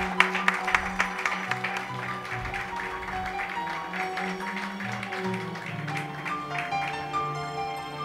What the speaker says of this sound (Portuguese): Vamos uma salva de palmas?